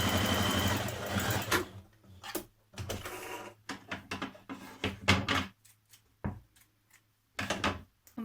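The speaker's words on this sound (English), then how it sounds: "Sew the underarm of your sleeves together." A sewing machine stitches the underarm seam of a dress sleeve for Simplicity pattern 2247, running in a long burst and then in short stop-start spurts with quiet gaps, close by.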